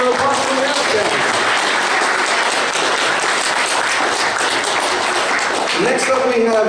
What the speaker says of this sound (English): One more round of applause for the Outstanding.